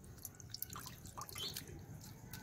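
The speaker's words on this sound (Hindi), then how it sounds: "आहिस्ता आहिस्ता इसको दबाना है ताकि इसका ये पानी निकल जाए।" Soft, scattered drips fall as whey is slowly pressed out of freshly made homemade mozzarella cheese, faint irregular droplets over quiet room noise.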